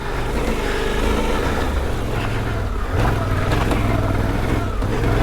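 Suzuki V-Strom 800 DE motorcycle on road-focused tyres accelerating along an off-road trail, its engine a steady loud drone that rises in pitch as it speeds up, with wind noise throughout.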